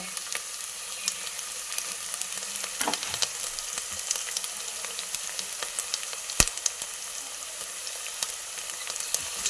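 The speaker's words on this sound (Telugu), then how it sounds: "అల్లం పేస్ట్ అల్లం వెల్లుల్లి పేస్ట్ వేగినాక కొంచెం ఇంగువ" Ginger-garlic paste with asafoetida fries in hot oil with a steady, close crackling sizzle, broken by a few sharp pops and light stirring clicks.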